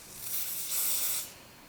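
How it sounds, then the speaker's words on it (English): Lace spray misted onto hair along a wig hairline, a soft close hiss in two short puffs, the second stronger, fading out at the end. "I'm going to spray it with the lace spray."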